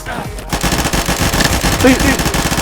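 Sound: gunfire in the video game Call of Duty

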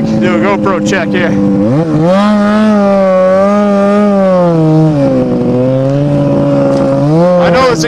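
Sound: snowmobile exhaust

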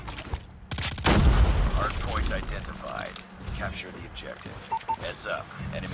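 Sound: gunfire in the video game Call of Duty Mobile

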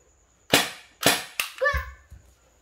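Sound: big toy gun being fired

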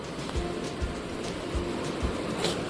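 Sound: floodwater surging through onion field after cloudburst rain

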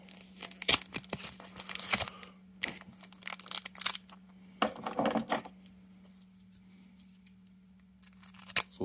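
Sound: opening a Pokemon Darkness Ablaze card pack

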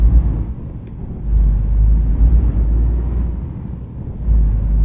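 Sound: truck exhaust brake in video game

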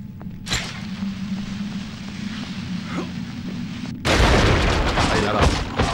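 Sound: explosion in Baldur's Gate Dark Alliance video game

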